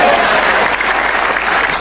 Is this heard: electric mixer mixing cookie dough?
no